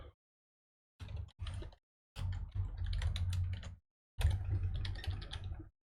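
Someone types on a computer keyboard in separate quiet bursts, with clattering keystrokes that fall silent between runs, close and fairly faint.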